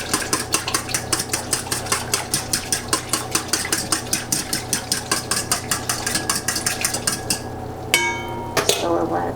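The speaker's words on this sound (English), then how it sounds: "We'll whisk that together." A whisk beats rapidly against a pan, mixing broth for Greek Easter cooking, a steady run of quick metallic clinks up close that stops near the end, followed by a few brief scraping knocks.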